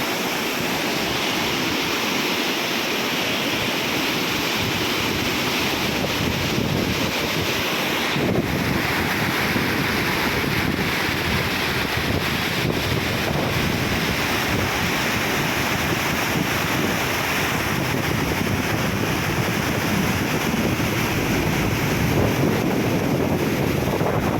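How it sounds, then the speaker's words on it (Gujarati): A river swollen after rain rushes past in flood, a steady loud roar of water with wind buffeting the microphone throughout, no voices. "ઘણી પાણી જાય છે"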